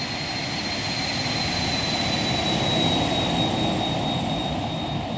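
A JetSet Designs Cleveland V2 jet in X-Plane 12 fills the space with a loud, steady engine roar and a thin high whine, sustained with no break for several seconds.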